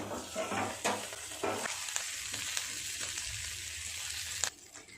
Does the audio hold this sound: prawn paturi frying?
yes